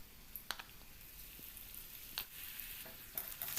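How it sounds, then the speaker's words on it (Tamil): Thin slices of tapioca deep-frying in hot oil give off a soft, continuous sizzle dotted with quiet, scattered crackles and pops. "அடுத்து இருக்கிறதே அதே மாதிரி போட்டு பொரிச்சு எடுத்துக்கலாம்."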